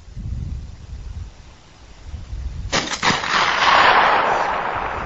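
An M82A1 SASR sniper rifle fires a single loud, sharp report at a target of 3/4-inch bullet-resistant glass outdoors, followed by a long rolling echo and wind noise.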